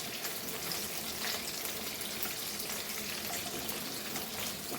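Okra frying in a pan on a low flame, a steady, close, continuous crackling sizzle with soft bubbling hiss and no pauses or talk.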